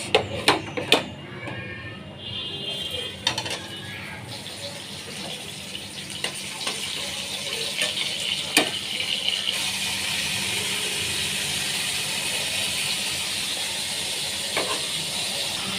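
Lote fish fry in hot oil, starting with a few sharp crackles and pops, then settling into a loud, steady sizzling hiss that lasts to the end.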